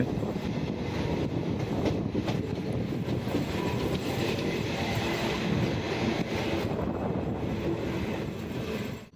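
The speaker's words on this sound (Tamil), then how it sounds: "இப்போ குத்தூர் ரயில்வே ஸ்டேஷன் என்ட்ரு ஆகிறோம்" Passenger train on the Karaikal–Thanjavur line pulling into Kuthur railway station, heard from on board: a steady, loud rolling rumble with clickety-clack of wheels and faint squeals throughout, easing slightly at the end, with no talk.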